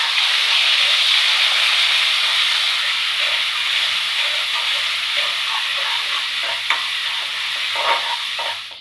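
Ginger garlic paste sautés in a pan with a loud, steady hissing sizzle; scattered stirring clicks grow more frequent toward the end, and nobody speaks.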